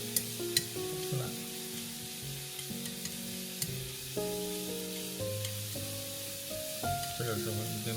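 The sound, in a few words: stir-frying wild chives in a pan, sizzling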